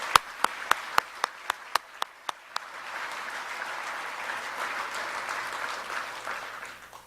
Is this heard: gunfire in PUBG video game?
no